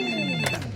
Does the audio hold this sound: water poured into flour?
no